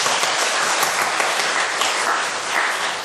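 A church congregation at a Sunday afternoon service applauds in thanks, a dense, sustained round of clapping from many hands, loud and steady throughout.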